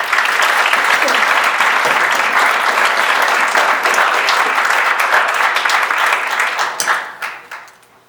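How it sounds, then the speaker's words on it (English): Audience applause for Paul Monson at a talk on Victorian architecture, steady and dense with many hands clapping together, holding strong for about seven seconds before tapering off at the end. "let's give a round of applause to Paul Monson"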